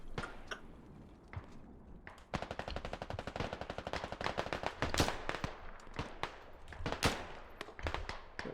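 Gunfire in the video game Squad comes as rapid automatic bursts of sharp cracks, some louder single shots among steady volleys, fairly distant and fairly faint.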